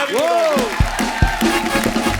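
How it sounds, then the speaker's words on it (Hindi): A studio audience at The Kapil Sharma Show, a Hindi comedy show, applauds and cheers steadily throughout, with a voice and some tonal sounds rising over the crowd noise at the start. "आपके लिए भी तालियां।"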